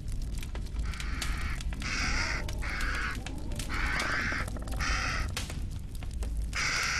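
Repeated crow caws from the I Spy Spooky Mansion game on Wii, several harsh calls in an irregular series over a constant noisy background, no speech.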